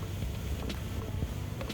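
A 2006 Gulf Craft 31-foot, 10,000-pound boat with twin Suzuki 225 four-stroke engines running across the water, a steady close engine and hull rumble mixed with wind buffeting throughout.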